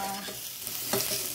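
Fish stirred in a pan with sizzling garlic, ginger and onion, a steady close frying hiss broken by scraping stirs, one louder clatter near the end.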